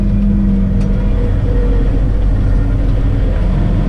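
A Case Maxxum 125 tractor works a field while ploughing with an Agromasz Vario plough, its engine a loud, constant close drone with a steady low hum and no talking over it.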